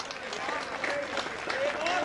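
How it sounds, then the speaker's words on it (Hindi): A crowd at a Hindi comedy poetry show applauds a performer named Vishnu, with dense clapping and general crowd noise throughout, a few faint whistle-like tones rising briefly above the din. "एक बार विष्णु के लिए तालियां बजा दें आप जोरदार"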